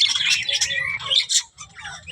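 Lovebirds, zebra finches, budgies and a parrot share one cage, making dense, overlapping chirps and tweets at close range, with a few sharper squawks and a short lull near the end.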